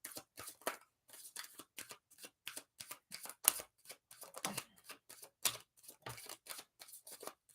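Tarot cards being shuffled in a rapid series of crisp riffles and flutters, close up and fairly quiet, with short bursts and pauses and no talking.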